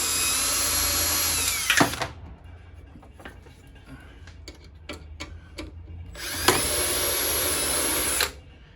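A power drill whines loudly in two long bursts, removing bolts, separated by quieter clanking and tool handling noises in between.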